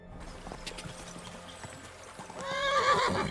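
Horse in the medieval Bohemia video game Kingdom: steady clip-clop of hooves, then a loud, close whinny rising over them near the end.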